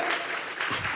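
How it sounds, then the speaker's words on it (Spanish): A church congregation applauding together, a dense wash of clapping from many hands filling a hall, steady and fairly loud throughout the brief moment. "Vamos a regalarle ofrenda de palmas al Dios de la gloria."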